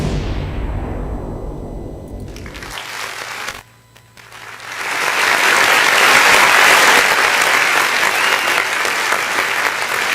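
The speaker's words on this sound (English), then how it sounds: "We give you an applaud" Applause at a calypso tent cultural show, a crowd clapping loudly and steadily after a brief pause, then a dense sustained burst that fills the rest of the stretch.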